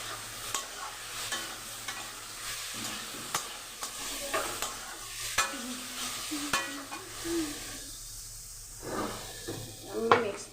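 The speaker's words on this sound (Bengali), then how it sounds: "একটু লাল মরিচে গুঁড়ো দিলাম, এটা দিয়ে ভালো করে আমি কষিয়ে নেব।" Red chili powder and spices being stir-fried in a pan, soft scraping and stirring with a low sizzle, faint and intermittent, with occasional clinks of a spatula.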